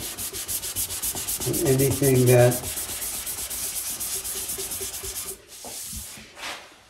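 Steady back-and-forth sanding on an acoustic guitar's wooden body, smoothing a brushed-on EM6000 finish; close, rhythmic rubbing strokes that swell briefly in the middle, then pause and resume softly near the end.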